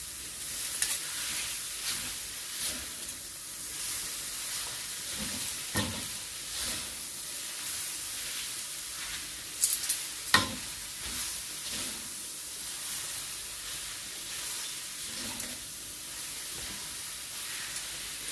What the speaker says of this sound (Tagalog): Now I'm going to mix my vegetables little by little or one at a time.